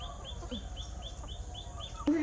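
Backyard desi hens cluck after laying eggs: a run of repeated short clucks close by over low background noise, ending with a louder squawk.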